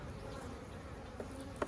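Honey bees from an aggressive colony with a new queen buzz around an opened hive in a faint, steady hum, with a soft tap near the end.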